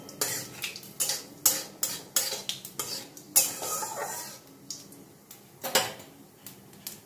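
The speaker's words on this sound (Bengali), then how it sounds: "আদা, টমেটো, কাঁচা লঙ্কা ও চালমগজ বাটাটা আমি এর মধ্যে দিয়ে খুব ভালো করে কষিয়ে নেব" Paste of ginger, tomato, green chili and melon seed is stirred in a pan, marked by repeated sharp metal scrapes and clinks of a spatula over a faint sizzle, close and irregular.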